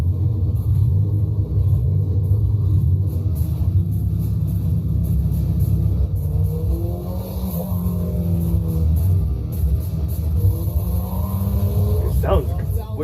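A 4-cylinder car idling after a cold start, a steady deep rumble throughout with a few light revs, while people talk over it.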